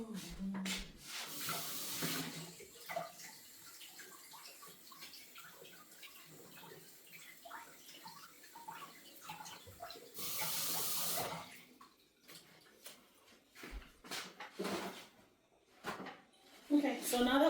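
Tap water runs over a cucumber being washed at a kitchen sink. A loud gush comes at the start and again midway, with softer trickling and splashing between, and a person talks throughout.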